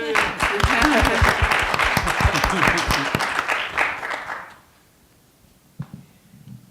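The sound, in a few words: audience clapping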